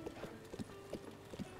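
Video game horse hooves clip-clop in a quick, even trotting rhythm, fairly faint over a quiet background hum, with no voices.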